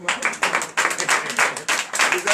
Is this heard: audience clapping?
yes